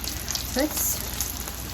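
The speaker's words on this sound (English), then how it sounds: "And of course, you can obviously hear the sizzling" Pork tenderloin sizzles loudly in a hot pan, a dense, constant frying hiss with scattered crackles.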